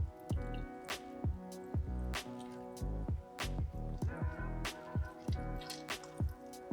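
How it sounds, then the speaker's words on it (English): Blood orange juice pours and drips into creamed cake batter, giving a series of close, wet drips and squishy plops in an uneven rhythm with no talk. "I'm gonna start adding in the blood orange juice"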